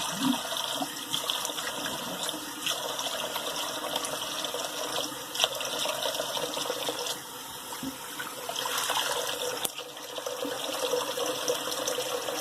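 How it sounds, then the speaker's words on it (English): Cold tap water runs steadily into a bathroom sink for a face rinse, a continuous close splashing stream with small shifts as hands move through the flow. "let me do my final rinse here. And my cold water rinse."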